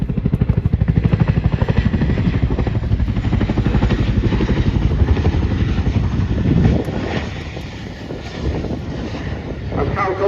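A loud, heavy Chinook helicopter rotor throbs steadily and close as it lands at an air display, then the pulsing eases and shifts as the engine note changes near the end.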